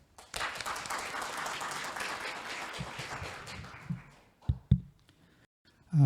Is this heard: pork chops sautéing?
no